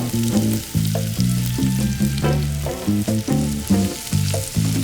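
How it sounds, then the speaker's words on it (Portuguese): Leek toasting in oil in a hot frying pan, a loud close sizzle with crackling pops over a steady low hum, and no talk. "A gente vai tostar o alho poró."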